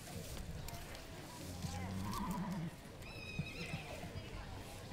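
A colt neighs at a thoroughbred foal show, a clear whinny rising and falling over steady crowd and announcer murmur, with higher squealing calls following.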